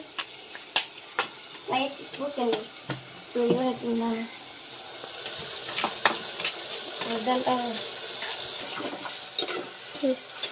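Tomatoes sizzle in a pan while a utensil stirs and scrapes, with people talking intermittently over the cooking sounds.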